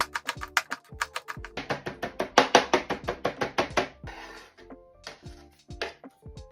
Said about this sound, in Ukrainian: І кріп зараз наріжемо туди.